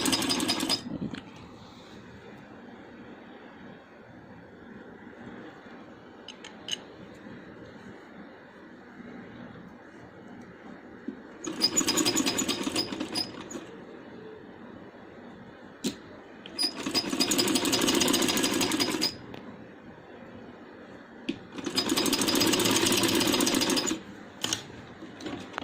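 A sewing machine stitches a handmade baby boy's dress in three loud, steady bursts of a few seconds each, separated by quieter pauses filled with low handling sounds.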